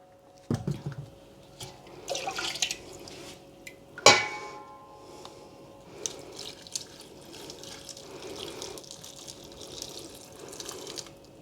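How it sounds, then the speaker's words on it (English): White vinegar poured into pickling jars of cauliflower, coleslaw and beetroot, a close liquid splashing and trickling with scattered glassy clinks and one sharp knock midway. "I'm going to just top it up with my white vinegar"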